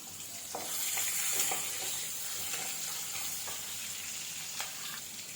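Sliced onion sautéing in a pan for mushroom kurma, a steady soft sizzle and frying hiss with occasional light stirring clicks and scrapes, close and fairly quiet, with no talking.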